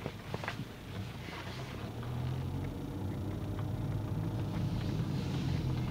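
A 2011 Nissan Altima 2.5 SL with a CVT pulls away in drive, a low steady engine and road rumble building gradually over several seconds from inside the cabin, with no talking.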